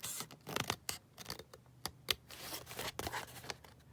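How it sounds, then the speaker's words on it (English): Scissors snipping through card pieces for coloured journal pockets, a close run of quick irregular cuts and paper rustles in a quiet room. "So I'll just cut them all out kind of first."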